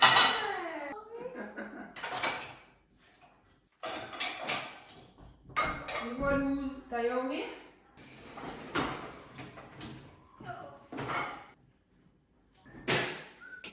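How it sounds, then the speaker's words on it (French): Dishes and cutlery clattering and clinking as a dishwasher is unloaded in a home kitchen, irregular bursts of knocks and rattles separated by short pauses, with some voices heard between. "je vais en profiter pour remplir le lave-vaisselle et le lancer. Des fois, il est propre. Donc, je le vide."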